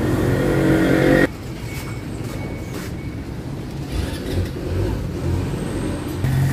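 A second-hand Barako motorcycle engine roars loudly at first, then drops to a steady idle with a few small rev swells, close and continuous.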